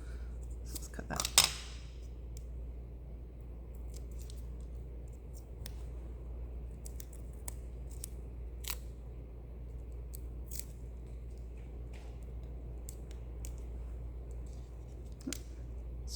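Scissors snipping through a paper stamp during a papercraft decorative panel project: a short, crisp cutting burst near the start, then quiet room tone with scattered faint clicks and rustles.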